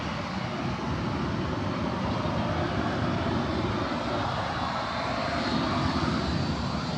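A jet airliner's engines spool up at Manchester Airport, a steady, loud, broadband roar that swells slightly toward the end, heard from outdoors at a distance, with no talk over it.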